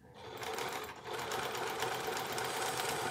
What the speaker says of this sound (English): So now just stitching along slowly.